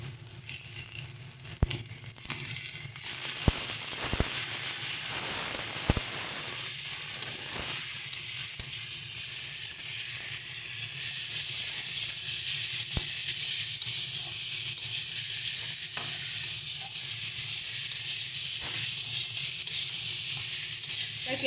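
Dried morola fish hits hot oil in a pan and sizzles loudly, a continuous close hiss with scattered clicks and stirring scrapes that builds slightly over time; no talking.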